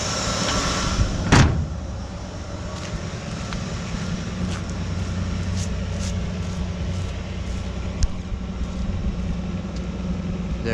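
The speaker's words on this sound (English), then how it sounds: "She runs and drives after 50 years, sitting abandoned." A long-abandoned 1957 Chevy with a slightly sticking accelerator idles in a steady, low, rough hum, with a sharp thunk like a door shutting near the start and light wind noise over the engine drone.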